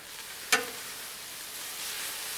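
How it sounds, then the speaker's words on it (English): Butter hits a hot Blackstone griddle for pancakes with a sharp hiss, then settles into a steady, moderately loud sizzle that continues to the end, with no talk. "Let's throw down a good chunk of butter right here."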